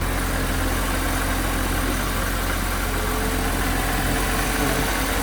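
A BMW E90 330xi engine idles steadily up close, a continuous rumbling drone with a faint whine over it, holding a constant level throughout with no talking.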